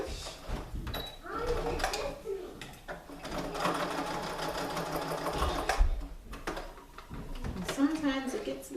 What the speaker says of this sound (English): I'm just going to run a straight stitch through here.